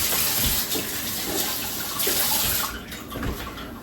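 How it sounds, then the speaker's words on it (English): Running tap water splashes steadily over a knife being rinsed in a kitchen sink while cooking Kenyan food, a continuous close rushing hiss with slight surges and dips throughout, no voices. "we just rinsed our knife as well"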